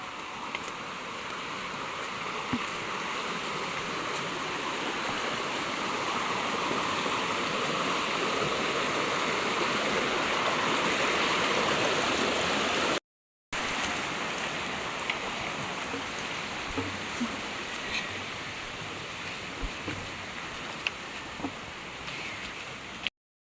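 A mountain stream flowing near a spring, heard as a steady, moderately loud wash of running water with faint splashes, briefly cut to silence midway and resuming.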